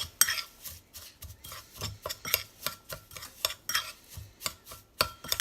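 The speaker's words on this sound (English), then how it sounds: "Stir this up" Spoon stirring a herb mixture for pork tenderloin in a bowl, steady rhythmic scraping and clinking strokes repeated close up, alone without talk.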